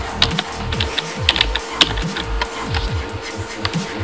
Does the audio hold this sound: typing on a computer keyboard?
yes